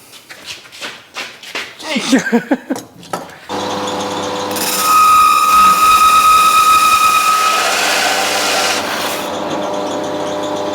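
A power drill whirs steadily as it bores into padauk wood, preceded by a few knocking and scraping sounds, loud and close.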